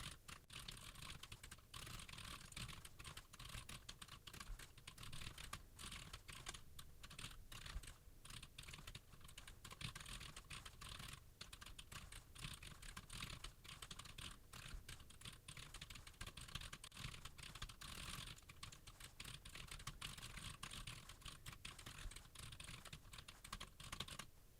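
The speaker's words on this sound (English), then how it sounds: "I'm going to speed up the typing" Typing on a computer keyboard, sped up into a dense, continuous rattle of rapid keystrokes, faint and steady throughout with no pauses or voices.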